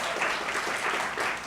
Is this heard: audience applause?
yes